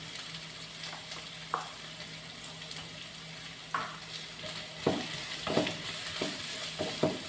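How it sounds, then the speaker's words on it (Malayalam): Onion and carrot sautéing in a pan for upma, a steady oily sizzle with occasional soft clicks and scrapes of stirring, close and without talk. "ഇതെല്ലാം കൂടെ ഒരു ബ്രൗൺ കളർ ഒന്ന് വഴറ്റിയെടുക്കുക."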